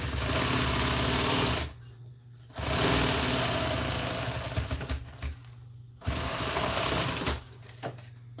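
A sewing machine stitching a seat cover runs in quick mechanical bursts, whirring steadily for a second or two, then stopping before starting again.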